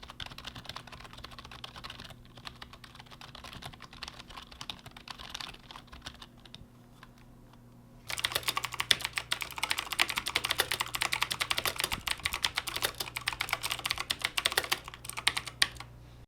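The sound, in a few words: typing on Corsair K55 keyboard and Razer BlackWidow keyboard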